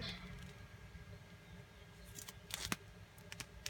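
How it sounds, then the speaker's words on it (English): A few sharp snipping cuts from small children's scissors through soft, gel-like material from a camper bathroom sink area near the end, quiet and close, after a stretch of low background rumble. "even children's scissors were able to get through this"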